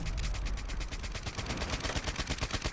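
Rapid, steady bursts of BRM machine-gun fire in Black Ops 3, evenly spaced shots hammering continuously and close up throughout.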